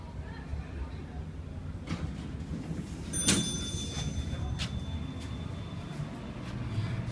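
A Delaware traction elevator in an Ocean City, Maryland condominium slides its door shut with a sharp mechanical clunk near the middle, over a steady low machine hum, and a thin whine follows.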